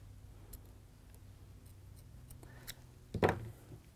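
Scissors snip through a fabric ribbon during wreath crafting, giving a short crisp cut near the end, close and fairly clear over a quiet room.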